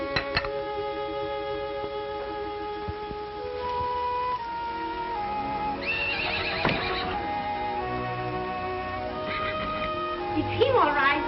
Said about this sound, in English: It's him, all right. It's your horse.